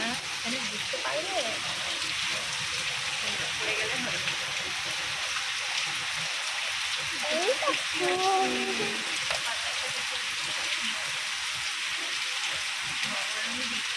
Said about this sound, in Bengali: অনেক জোর বৃষ্টি হচ্ছে, অনেক জোর।